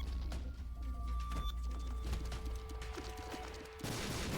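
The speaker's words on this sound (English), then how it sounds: "I hear explosions going everywhere." Faint, scattered bursts of explosions and crackling fire from the video game The Binding of Isaac: Repentance+, irregular and distant in the background, with no speech.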